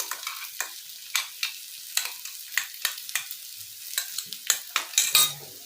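Potatoes frying with dried chili and cumin, repeated scraping stirs of a spatula against the pan over a soft, quiet sizzle, coming in an irregular rhythm of strokes.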